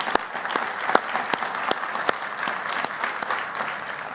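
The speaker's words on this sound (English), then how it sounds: "please give another round of applause for Alex and her team for all of their hard work" Applause from a plenary conference audience, a steady bed of many hands clapping with several sharp, distinct claps standing out near the front at irregular intervals.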